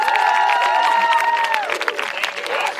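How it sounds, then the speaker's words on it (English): Applause and cheering from the audience at a high school pops concert, a dense continuous wash of clapping and crowd noise with a sustained tone fading beneath it. "let's give it a round of applause for all of our performers tonight"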